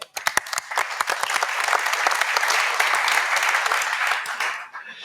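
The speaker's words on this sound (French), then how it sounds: "Merci beaucoup Olivier, on vous applaudit." An audience at a telecom industry conference applauds a departing speaker, with close sharp claps at the start growing into a dense, sustained round of clapping that tapers off near the end.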